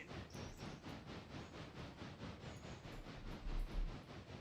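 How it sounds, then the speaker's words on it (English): Passenger train on the C&OR railroad rolling steadily past, a rhythmic clatter of wheels over rail joints with a broad rumble, fairly close and continuous with no talk. "There's the passenger train."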